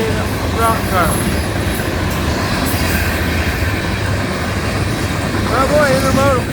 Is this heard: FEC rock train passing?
yes